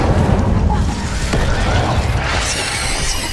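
Spell blasts from Confringo and Incendio in Hogwarts Legacy, a dense barrage of booming, crackling explosions and magical bursts that stays loud and continuous for the whole stretch with no speech.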